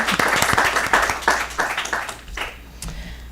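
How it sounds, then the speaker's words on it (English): Applause at a school board of education meeting, a room of people clapping steadily for an honoree before the sound thins out and fades over a few seconds. "Round of applause."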